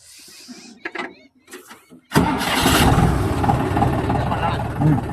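A 6 hp motor engine cranks and catches at once, then runs loud and steady close by, after a few seconds of talk and handling noises.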